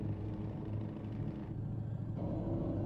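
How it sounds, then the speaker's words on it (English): A Scania R 500 truck in Euro Truck Simulator 2 engine brakes with a deep, steady rumbling drone, a low continuous growl that shifts slightly in tone partway through. "Good engine braking."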